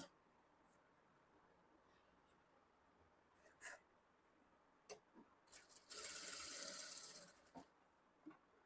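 Sewing machine stitching a blouse, heard as a quiet room with scattered clicks and then one louder whirring run of stitching lasting about a second, followed by a few more soft mechanical taps.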